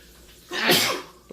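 A single sharp, close sneeze bursts out in a home kitchen during cooking, rising quickly and fading within half a second against quiet background.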